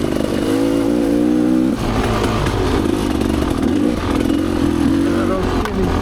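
A Rieju Ranger motorcycle rides a single-track trail at Tin Cup Springs, its engine loud and close, revving and dipping continuously with clattering over rough ground.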